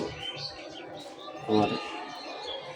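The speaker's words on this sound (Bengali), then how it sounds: "কোয়েল পাখি 2টা, কবুতর 2টা।" Pigeons cooing and quail chirping at a small home bird farm, a soft steady chatter of calls with one louder burst midway, mixed with faint talking.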